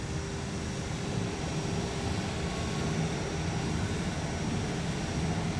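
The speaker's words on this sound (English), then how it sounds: "And can you hear the engine?" Aircraft engine droning in a flight simulator game on an IFR flight, a constant low rumbling hum with a faint steady tone, unchanging throughout.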